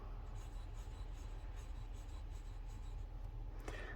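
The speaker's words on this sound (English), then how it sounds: "We'll do the backwards writing just in case anyone's into that." Baoer 801 fountain pen nib scratching across paper while writing backwards, a soft continuous rasp of short strokes, close and quiet, ending with a brief brighter scrape.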